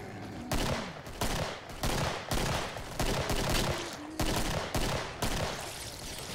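A Tommy gun fires in a video game in about ten short, evenly spaced bursts, each a loud rapid rattle separated by brief pauses.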